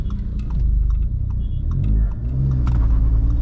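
Modified Stage 3 Skoda Slavia launching in first gear, a steady loud engine rumble rising into revs with wheelspin noise, close and continuous with no talk.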